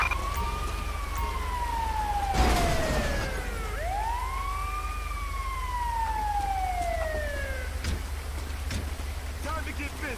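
Wailing ambulance siren in GTA 5 near Vinewood Racetrack, sweeping up and down in long rising and falling tones, loud and steady over rain-like background noise with a brief thump partway through.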